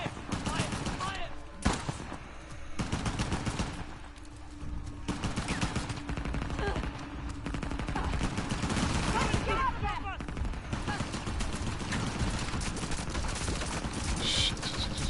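Gunfire in the action game Uncharted: The Lost Legacy, dense rapid bursts and sharp cracks crowding the scene continuously, loud and chaotic, with voices shouting faintly amid the shooting.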